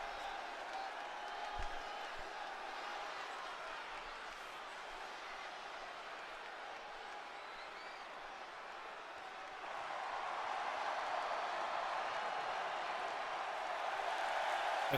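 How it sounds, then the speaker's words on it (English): A wrestling event crowd applauds and cheers as a superstar heads to the ring for an Intercontinental title match, a steady distant wash of arena noise that swells louder in the final few seconds. "The crowd completely on their feet right now"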